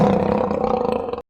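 A big lion lets out a deep, rumbling roar, used as a sound effect in a fairy-tale forest scene. It is loud and close, pulses slightly, holds for about a second and then cuts off sharply.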